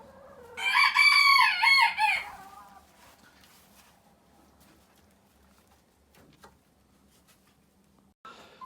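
A chicken on a small backyard farm lets out a loud, drawn-out crowing call for a couple of seconds, followed by quiet with only faint background noise.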